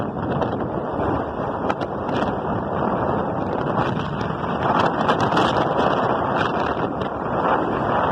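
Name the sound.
wind while driving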